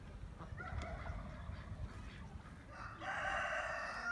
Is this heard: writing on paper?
no